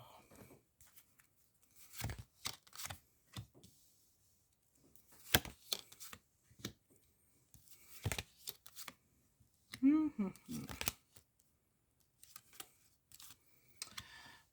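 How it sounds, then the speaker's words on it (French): Tarot cards are handled, shuffled and flipped over during a reading, giving crisp papery snaps and riffles in scattered bursts, with quiet gaps between them and a soft voice murmuring briefly. "je vais découvrir les cartes en même temps que vous"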